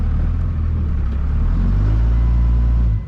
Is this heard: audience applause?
no